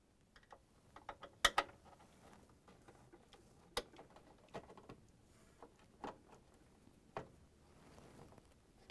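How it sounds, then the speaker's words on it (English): Two Torx 15 screws being backed out with a Torx 15 screwdriver on a Whirlpool/KitchenAid/Maytag washer lid lock assembly: quiet, scattered clicks and ticks of the driver, alone and close. "There's a two Torx 15 screws that I'm going to remove using that Torx 15 screwdriver."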